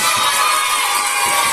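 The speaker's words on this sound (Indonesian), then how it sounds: "sama-sama kita tepuk tangan untuk Laura" A classroom of schoolchildren clapping and cheering for a classmate, a dense, loud burst of applause and excited voices that lasts the whole short moment.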